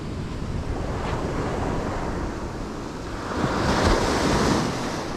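Gentle ocean surf on an Orange County, California beach, a continuous close rush of small waves washing in, swelling slightly near the end, with some wind buffeting the microphone and no talk.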